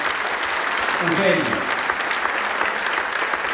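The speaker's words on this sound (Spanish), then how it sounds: "Operador de sonido, pido para él un fuerte aplauso." Theater audience applauds the sound operator at an accordion concert, a thick, steady wash of clapping throughout while someone briefly speaks over it.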